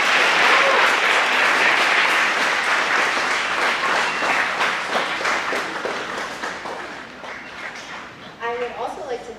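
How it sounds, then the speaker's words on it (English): A school audience at a 2016 senior presentation bursts into dense, loud applause that slowly dies down, and a voice begins talking as the clapping tapers off at the end. "So if you could give them a round of applause,"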